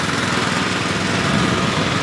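A riding lawn mower's engine drones steadily at close range, a loud, even buzz that holds without pause or change in pitch for the whole stretch.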